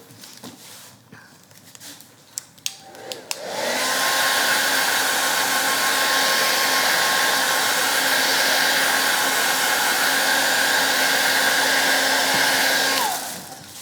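A hair dryer drying stencil paint on a round wooden door hanger switches on after a few clicks and handling noises, then blows with a loud, steady, close whir for about ten seconds before cutting off.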